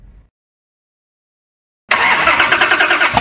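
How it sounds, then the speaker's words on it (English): A Jeep concept off-road vehicle's engine on a Moab trail in Utah cuts in abruptly after near-silence, a loud, close, rough mechanical roar with a slightly pulsing throb. "the Jeep concept vehicles tackled some of Moab's best-known trails, running alongside current and heritage Jeep off-roaders"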